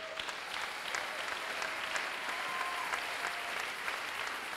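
Church congregation applauding during a sermon, a steady wash of many hands clapping together at even loudness throughout, dense and continuous with no talk over it.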